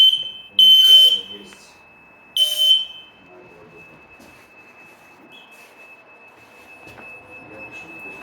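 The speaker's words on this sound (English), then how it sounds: "An alarm in the kitchen." A kitchen smoke alarm in a building, emitting two loud, sharp piercing beeps that ring out before fading into quiet room noise.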